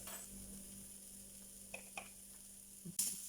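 Grated carrots with turmeric stirred in a pan, a faint sizzle under a few soft scrapes and clicks of a utensil, ending with a sharper clatter.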